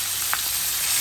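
Garlic frying in butter and extra virgin olive oil gives a steady, close hiss of sizzling, with one brief crackle.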